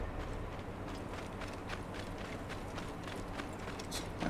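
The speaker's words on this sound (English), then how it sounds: "Is my horse running away from me? I think it is." Horse hooves clip-clopping at a run in the game Assassin's Creed Origins, a steady rapid patter of beats moving across a desert setting, continuous and moderately loud throughout.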